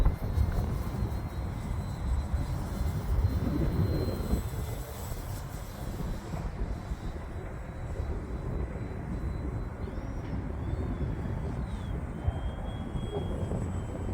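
A Dynam Pitts Python RC biplane flies in the wind, its small motor a steady buzzing drone heard from a distance, blended with constant wind rumble throughout.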